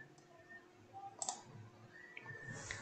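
Mouse clicks on a connect button in a web browser, a few faint, sharp, close clicks over a quiet room hum, with a brief tone near the end.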